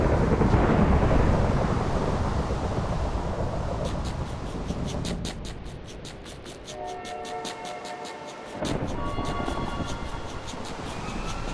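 A thunderstorm rolls through a night scene in the Minecraft Better Than Wolves mod, with a loud rumbling crash that fades. Bright buzzing tones and clicks follow, and then a second rumble of thunder swells near the end.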